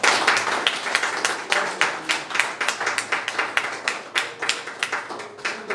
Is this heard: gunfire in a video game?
no